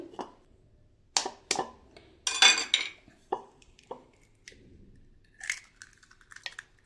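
Four eggs cracked into a bowl, a series of sharp close taps and clinks on the rim followed by brief wet drops, separated by quiet pauses in a kitchen.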